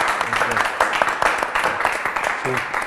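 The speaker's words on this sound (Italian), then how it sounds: "e qui ci sta l'applauso" Applause from an audience at a literary award occasion, the Premio Nettuno 2015 in Bologna, a dense clatter of many hands with speech-like voices mixed through it, steady and fairly loud for about three seconds.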